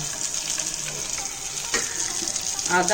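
Julienned ginger dropped into hot oil as tempering for a bowal fish dish fries with a steady, close sizzle. The sizzle swells near the end with a few clinks of a utensil.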